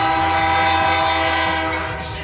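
A Norfolk Southern manifest freight train passing on the Hinckley subdivision, a loud, steady rumble with a sustained horn-like tonal drone and repeating rhythmic wheel clatter, easing slightly toward the end.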